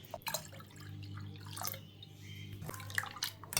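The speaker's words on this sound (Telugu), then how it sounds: "ఇందులో మళ్ళీ వాటర్ కలుపుకుందాం" Water poured into a bowl of rava dosa batter, a short splashing, trickling sound with small drips, close by and fairly quiet.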